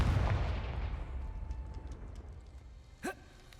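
The Confringo fire-blast spell in Hogwarts Legacy goes off as a heavy booming explosion right at the start, its roar fading away over a few seconds, followed later by a short sharp sound.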